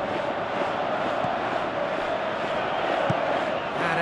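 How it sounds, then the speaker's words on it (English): Simulated stadium crowd in the football game PES 2018 at an AFC Champions League match, Urawa Red Diamonds against Shanghai, a steady roaring murmur of fans with faint swells throughout. "you can hear how the crowd are reacting to this too"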